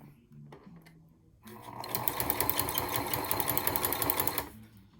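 Domestic sewing machine stitching a small leather duffle handbag: a quiet lead-in with a few clicks, then a rapid, steady mechanical whir and needle chatter for about three seconds before stopping, close and clear.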